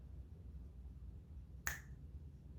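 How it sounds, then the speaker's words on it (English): A single crisp finger snap stands out against a quiet room hum, sharp and close, with near silence before and after it, part of a clap-clap-snap pattern. "After you go clap, clap, the next part of this pattern is snap."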